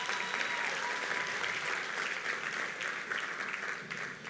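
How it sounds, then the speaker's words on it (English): A graduation crowd at a technical high school claps steadily for the dancers, a dense, continuous wash of applause that holds evenly and then tapers slightly at the end. "Let's give the dancers another round of applause"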